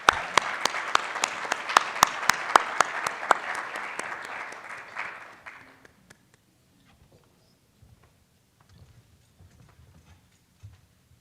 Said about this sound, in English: Let's have a round of applause for Captain Rachel Reese Fox.